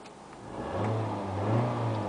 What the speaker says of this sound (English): let me just rev the engine so you can hear it